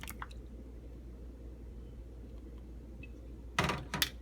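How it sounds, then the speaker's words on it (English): Wet egg mixture is poured and squelches into riced cauliflower for a paleo pizza crust, giving two short, close, soft splashy bursts after near silence. "I'm going to add the egg mixture."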